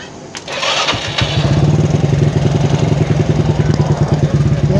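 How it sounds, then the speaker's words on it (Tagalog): Motorcycle engine cranks and catches, then settles into a loud, close, steady idle with a rapid rhythmic putter, recorded during wiring work on the bike. "paandarin natin yung motor"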